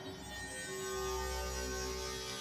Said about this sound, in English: Then the next instance is this metallic pad thing